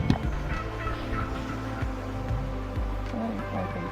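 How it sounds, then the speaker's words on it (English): Turkeys gobbling repeatedly in a loose chorus in a fenced field, several birds calling over one another at close to moderate distance, with low rumbling background noise. "We found a bunch of turkeys down there."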